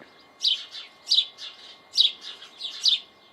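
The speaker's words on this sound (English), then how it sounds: "You can hear the birds. We hear nothing but birds here. Very noisy." Birds chirp in a garden in Cyprus in repeated bursts of bright, high tweets, about four clusters spaced roughly evenly, moderately close over a quiet background.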